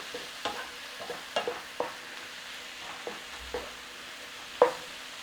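Frozen peas stirred into a sizzling pan of chicken à la king, a soft frying hiss under a series of scraping stirs and a few sharper clinks of the spoon against the pan.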